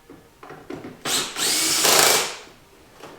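A power drill driving out bolts inside a Ski-Doo Gen4 snowmobile glove box: a few short taps and bursts, then a sustained loud whirring run that winds down near the end.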